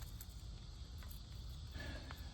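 Grasshoppers chirp outdoors in a faint, thin insect buzz over steady background hiss, with a few short clicks.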